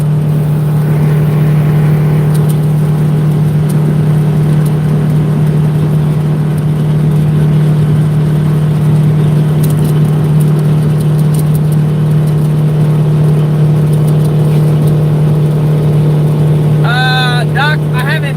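Detroit diesel engine with clogged fuel filters running loud and close, a heavy steady drone with a strong low hum that holds throughout, uneven texture hinting at sputter at higher revs, with a brief squeak near the end.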